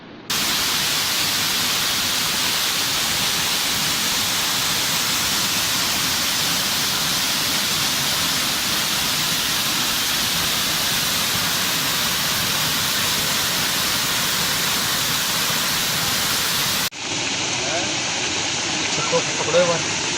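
The Kantali river flowing after a long dry spell: a loud, steady broadband rush of water over about twenty seconds, close up and with no let-up, changing slightly in tone near the end.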